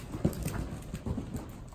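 Horse hooves clip-clopping in a steady rhythmic gait during a jumping lesson, close and moderately loud with no talk over them.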